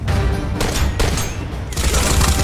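Dense, continuous gunfire from a video game shooter, XERA: Survival, sustained at close range with rapid overlapping shots and a few sharper bursts throughout.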